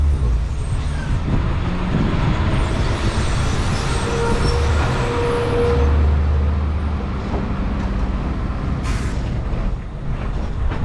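A KSRTC bus bound for Nilambur via Akampadam rumbles close by with a loud, steady engine drone and a brief air-brake hiss, set against road traffic on a hilly Kerala route; no one speaks.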